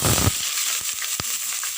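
Chopped onion hitting a hot pan of oil gives a close, steady hiss with a few crackling pops and a thump near the start, and no talking.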